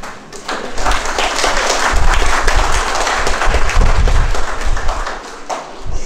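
An audience at a lecture on social work and human rights breaks into loud, sustained applause, many hands clapping together in a dense, close roar that swells and then fades toward the end.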